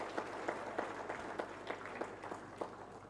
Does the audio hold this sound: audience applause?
yes